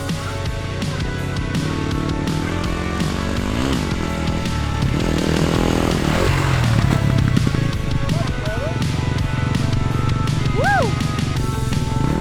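A dirt bike engine revs hard and steadily as it hits a double jump on a track, the pitch rising and dipping through takeoff and landing, loud and continuous with brief voices mixed in.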